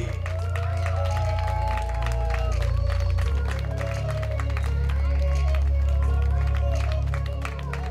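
Audience applause at a fashion show, a steady dense wash of clapping from a crowd that carries on evenly throughout, with some voices mixed in under it.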